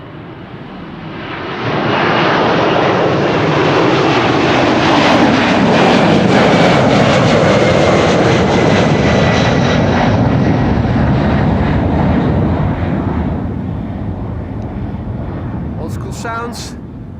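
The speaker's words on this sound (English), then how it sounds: "from a 767 that is 33 years old." A 33-year-old United Airlines Boeing 767 jet airliner roars past at Amsterdam Schiphol, a loud, sustained broadband engine rumble that swells in and holds steady before easing slightly, with a commentator talking over it.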